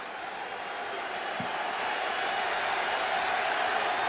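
A football crowd at Ralph Wilson Stadium in Buffalo during a Saints at Bills NFL game rises into a steady, swelling roar of cheering that grows louder throughout, distant and dense, with no clear individual voices.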